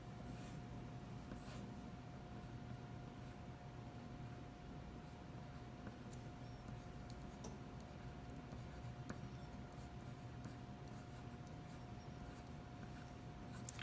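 Ink pen or brush strokes scratch steadily across paper while basic structure is drawn for an illustration, a soft, continuous writing rasp close up under a constant low hum, with no talking.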